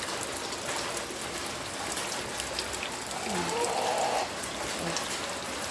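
Heavy rain pours steadily in a dense, hissing wash of drops, loud and continuous, with faint dripping and splashes within it.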